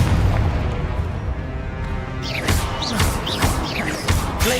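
A Confringo explosive spell in Hogwarts Legacy, starting as a heavy rumbling boom that gives way to a rapid run of sharp bursts and crackling impacts, loud and close, no talking.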